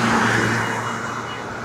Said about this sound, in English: you had that truck coming the other way